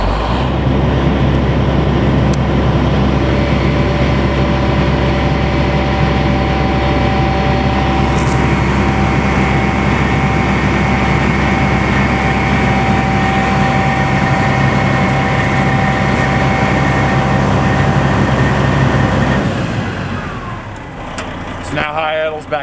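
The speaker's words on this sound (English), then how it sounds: "So we're going to turn on high idle" Fire department ladder truck running at high idle as its aerial ladder is raised, a loud steady diesel drone with hydraulic whine that holds level for about twenty seconds before dropping back down near the end.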